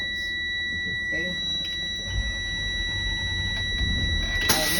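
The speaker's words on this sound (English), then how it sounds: "light and buzzer activated at 70 psi's" A steady high-pitched low air pressure warning buzzer sounds continuously on a bus during an air brake test, with the engine idling low underneath and a brief clatter near the end.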